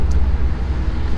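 A busy street gives off a steady, loud, low traffic rumble of passing vehicles, continuous and even throughout, with no talking.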